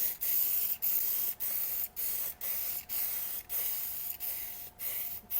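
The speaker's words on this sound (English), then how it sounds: "So this one's spraying good." A spray gun sprays steadily in short repeated bursts, about ten evenly spaced hissing pulses separated by brief gaps, during fiberglass tub and shower floor crack repair; close and fairly quiet, no talk.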